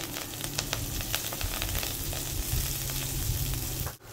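Cumin seeds and coriander leaves frying in a pan, a loud, dense, continuous sizzle with crackling pops and occasional stirring, ending in a brief sharp clatter.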